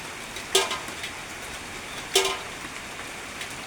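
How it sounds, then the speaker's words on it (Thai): Soft, steady morning rain falls under an overcast sky in the rural countryside, seen from a corner of a house, with two brief sharper splashes standing out over the quiet patter. "เวลาเช้าๆนะครับฝนก็ตกเหมือนเดิมนะครับผม"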